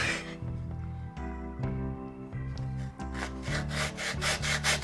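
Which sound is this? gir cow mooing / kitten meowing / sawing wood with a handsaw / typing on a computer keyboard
sawing wood with a handsaw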